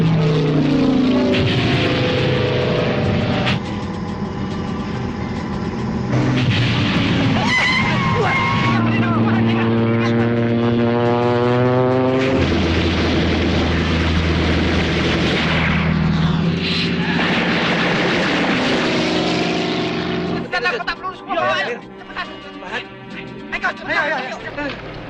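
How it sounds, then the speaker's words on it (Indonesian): Allied aircraft attacking a truck of fleeing fighters, with roaring engines, passing drones and sweeping pitch changes, heavy rumbling blasts and gunfire-like bursts near the end, loud and continuous, with a voice talking over it. "Mereka dikejar dan diserang oleh pesawat sekutu."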